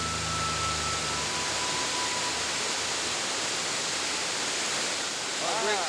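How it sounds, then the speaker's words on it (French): Waterfall cascading in the Belize jungle: a steady, dense roar of falling water fills the whole stretch at close range, with a faint high tone early on and a brief fluttering sound near the end. "Et regarde cette cascade, elle est magnifique."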